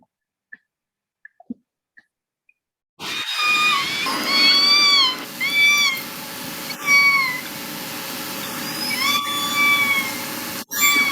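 K pod orcas produce rising, cat-like mewing calls underwater, repeated in short upward-sweeping bursts over a low background hum, moderately loud, with a few sharp clicks.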